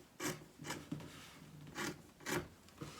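Scissors trimming fabric for a dog dress outfit, several short close rasping snips in an uneven rhythm, quiet and alone.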